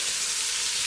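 Beef wet frying in a pot gives a steady, close sizzle with no pauses, a dense hiss that carries alone all the way through.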